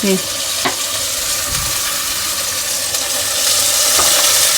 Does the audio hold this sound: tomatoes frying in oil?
yes